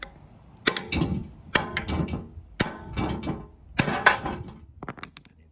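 Repeated hammer strikes drive a bushing into a Honda crossmember, a series of close, sharp metallic knocks in irregular bursts with short gaps between them.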